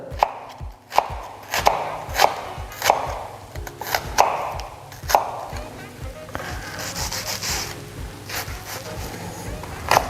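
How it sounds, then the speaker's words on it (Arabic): A knife slices an onion into thin pieces on a cutting board, giving a steady run of crisp, evenly spaced chops close by. A voice talks quietly underneath and the rhythm loosens toward the end. "وغادي نحاولوا نقطعوها رقيقه بزاف"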